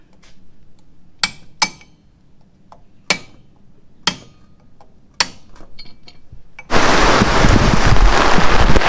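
Heavy rain during a typhoon. A few sharp clinks and taps ring out over quiet background noise, then a dense, loud roar of downpour suddenly takes over for the last couple of seconds.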